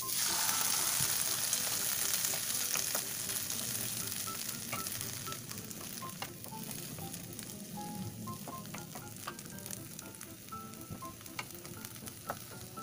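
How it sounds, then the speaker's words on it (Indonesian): Green beans stir-frying in a pan with a little water added, a loud steady sizzle and hiss that eases slightly over time, with scattered scraping stirs throughout and no voices. "masukkan buncis untuk ditumis, lalu tambahkan sedikit air"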